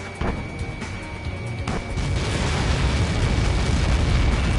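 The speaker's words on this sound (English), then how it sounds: "How many got caught in that explosion?" A massive missile blast in the Ace Combat 7 flight game erupts into a deep, sustained rumbling roar that swells and fills the scene, with no voices over it.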